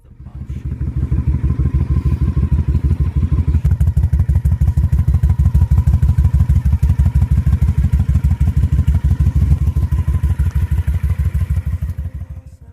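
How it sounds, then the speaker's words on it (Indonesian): A Honda Shadow Ace V-twin with a single-pin crank idles up close, loud and steady, its uneven loping beat pulsing rhythmically throughout before easing off at the end. "suara yang dihasilkan mesin Honda Shadow Ace ini jadi persis banget dengan suara motor Harley Davidson"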